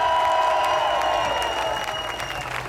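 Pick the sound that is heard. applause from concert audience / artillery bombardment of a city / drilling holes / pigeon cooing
applause from concert audience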